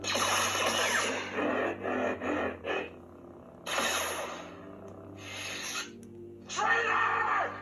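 A KR-Sabers Proffie lightsaber plays an Emperor sound font through a 22 mm speaker. Several close bursts of crackling hum and swing swooshes are separated by short quieter gaps.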